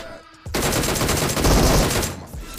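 Gunfire in PUBG Lite on a Samsung phone, a sustained loud burst of rapid shots that cuts in abruptly, rolls on for about two seconds and then stops.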